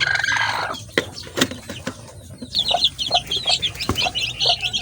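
Young chicks drinking at a farm, a dense run of soft, high cheeping and clucking calls, close and fairly loud, with a few knocks and rustles early on and no voices.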